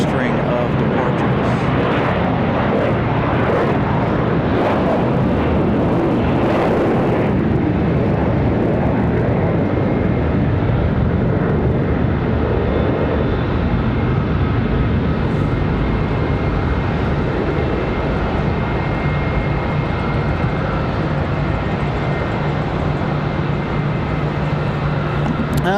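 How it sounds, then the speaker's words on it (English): Airliners depart Charlotte Douglas International Airport, heard as a loud, steady roar of jet engines that stays strong throughout, with broadband rumble and wind noise but no talking. "Here we go. Long string of departures."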